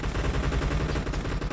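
Shotgun gunfire in PUBG Mobile during a shotgun-only challenge: a dense, continuous burst of loud, close shots with no pauses, filling the whole moment.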